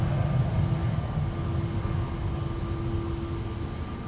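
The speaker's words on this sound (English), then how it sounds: "Another cheater taking off from Cheater's Lane. It is SAS Flight 822. It's an A320neo to Oslo." An SAS Airbus A320neo on flight 822 to Oslo takes off at Amsterdam Schiphol, a loud, steady, broad roaring rumble with a faint whine, sustained throughout with no voices.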